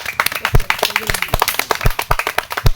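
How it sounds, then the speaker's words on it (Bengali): Scattered hand claps from a small audience at a village prize-giving for folk games such as a balloon game. The claps come as sharp, irregular, fairly close bursts rather than a full sustained ovation. "সবাই একটা করতালি হয়ে যাক।"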